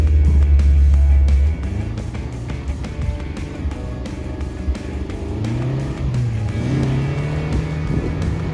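A Suzuki off-road car drives through a forest, its engine loud and close with a steady drone that rises and falls as it revs over rough ground.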